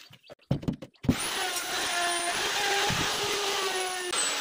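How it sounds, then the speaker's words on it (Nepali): A wood router machine whines up to speed after a few short knocks, then runs loud and continuous with a high steady tone. "अब राउटर हेर्नुहोस् ल मेसिन"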